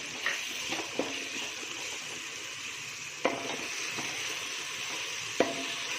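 Ginger garlic paste frying in hot oil with tomatoes for tomato bath, a steady soft sizzle throughout with a few sharp pops and spoon stirs, close and moderately quiet.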